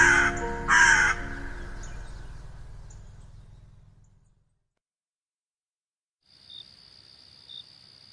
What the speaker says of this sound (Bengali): বাইরে বারান্দায় রেলিংয়ের ওপর বসে একটা কাক কর্কশ্বরে কা কা করে ডাকছে।